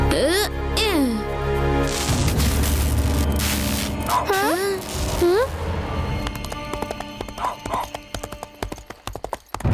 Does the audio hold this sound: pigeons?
no